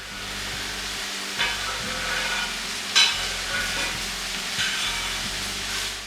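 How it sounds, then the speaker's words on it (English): Sautéed vegetables with green onions being stirred in a hot pan, a steady sizzle with scraping spoon strokes and a few sharper clinks against the pan, no talking. "Give it a good stir."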